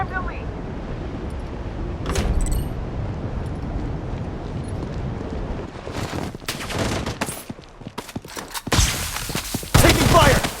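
Gunfire in a battle royale video game: close, loud bursts of rapid shots come in clusters, separated by quieter stretches of ambient game noise.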